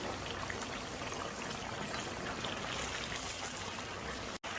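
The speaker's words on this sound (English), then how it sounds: "The chicken is getting cooked in the water, and the oil is getting separate." Chicken karahi in water and oil simmers vigorously over a high flame, giving a steady, dense bubbling hiss that stays even throughout and cuts off abruptly at the end. No one speaks.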